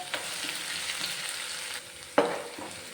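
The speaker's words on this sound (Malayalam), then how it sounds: "പിന്നെ ഒരു മൂന്നാല് രണ്ട് കറിവേപ്പിലയും കൂടി ഇട്ടിട്ട് നമുക്കിത് ഒന്ന് മൂപ്പിച്ചെടുക്കാം" Curry leaves fry in a pan with a soft, faint sizzle, broken by a few light stirring clatters and one sharper scrape near the end.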